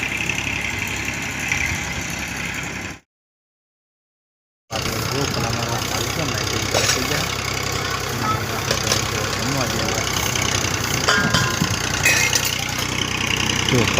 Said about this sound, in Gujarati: પલાવ મારવા માટે ટ્રેક્ટર આવી ગયું છે